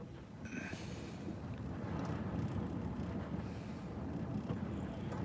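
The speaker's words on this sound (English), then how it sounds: "Yes, it's fucking windy here." Low rumbling wind buffets the microphone in a steady roar, with a brief higher whistle near the start and no talking.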